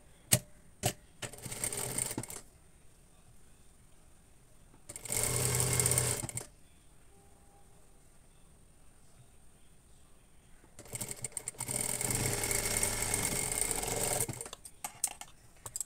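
A sewing machine stitches a katori blouse in three rapid, whirring bursts of varying length, separated by quiet pauses with light handling clicks.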